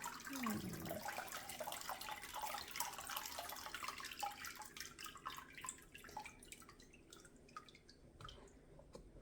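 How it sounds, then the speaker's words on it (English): Water drips and trickles during hand papermaking with a pulp mould, a quiet run of small irregular drops and splashes, with no talk. "Wonder if it's dripping on the floor"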